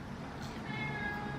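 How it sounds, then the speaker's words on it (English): A single drawn-out cat meow, close and fairly clear, over a faint room background. "You can hear him meowing."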